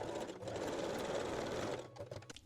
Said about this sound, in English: Now we can also top stitch the shorter sides and stitch the seam allowance